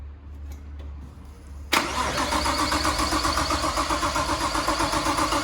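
Nissan RB25DET engine in an R33 Skyline, a low steady hum, then a sudden catch and start into a loud, evenly pulsing idle that carries on to the end.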